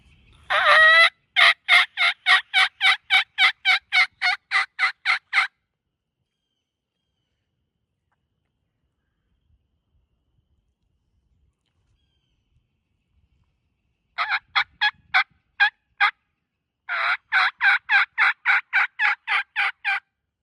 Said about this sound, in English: There's gobbles over there.